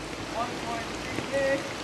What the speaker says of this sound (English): Rain. The weather is a challenge at times.